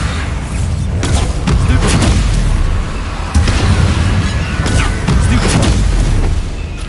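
Heavy, booming blasts from a Bombarda spell in a video game, a loud sustained rumble with several sharper bursts and crashes layered over a constant low roar.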